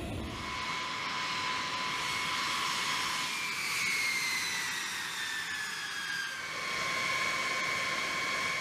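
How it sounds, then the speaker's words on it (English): Start-up of a B-52 bomber's jet engines: a steady, loud turbine roar and rush with high whining tones that slowly rise and fall, continuous throughout with no talk. "the crew will give the signal to initiate the engine start sequence."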